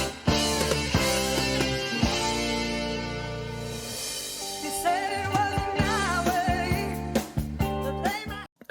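Full sampled soul-style song with sustained chords and layered melodic parts running steadily for several seconds, moderately loud with no talking.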